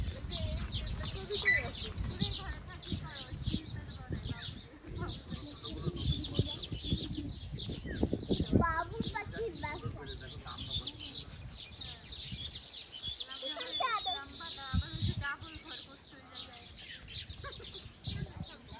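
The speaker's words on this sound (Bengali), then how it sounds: "বাবুই পাখির কিচির মিচির শব্দ" Baya weaver birds chirping around their nests outdoors, many busy overlapping twitters and chatter at moderate distance, mixed with people talking nearby and some handling noise.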